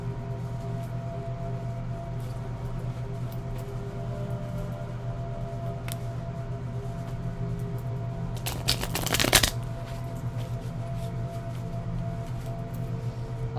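A quick riffle of cards being shuffled bursts out once, brief and crisp, against a quiet hum.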